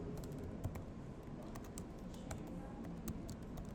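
Typing on a computer keyboard: a steady, quick run of light key clicks, fairly faint, over a low background hum with no talking.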